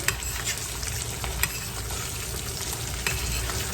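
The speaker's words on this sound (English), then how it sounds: "And immediately after I put it in, I start basting it. Basting the white part mostly." An egg fries in a skillet on medium-high heat while hot fat is spooned over the white and yolk, giving a steady close sizzle with a few sharp pops and spoon taps against the pan.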